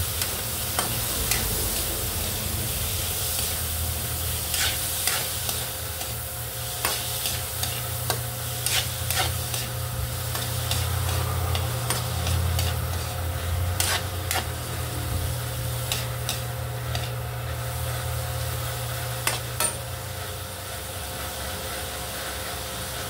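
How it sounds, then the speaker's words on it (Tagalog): Chopped tomato sautéing in a pan for a Filipino shrimp paste dish, a steady sizzle and hiss with repeated scraping and tapping of a spatula stirring throughout. "Next, ilagay ko na yung chopped tomato."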